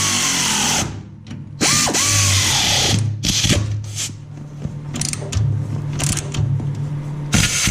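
A power tool, likely a drill or impact driver, tightens fasteners on a snow blower modification for a Simplicity tractor in loud bursts with short pauses and changing pitch, close by.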